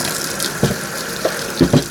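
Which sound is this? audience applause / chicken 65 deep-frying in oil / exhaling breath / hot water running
hot water running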